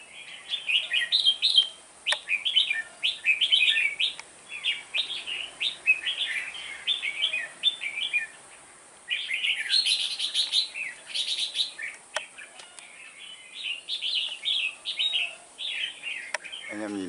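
A captive seven-month-old red-whiskered bulbul with a slightly crooked beak calls in bursts of bright, warbling chirps, loud and close, with short pauses between phrases.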